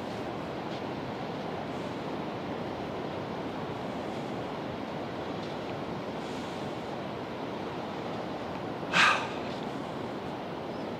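Ocean waves break steadily on Wharariki Beach, a continuous loud surf wash with wind noise across the whole stretch and one brief sharp burst near the end.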